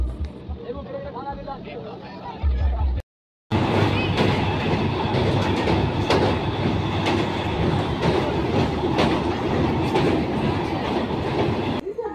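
Passenger train ride toward Mecheda during the Puja festival, with loud steady rumble and rhythmic clickety-clack of carriages rolling on the rails, a brief dropout early on, and faint crowd murmur inside the coach.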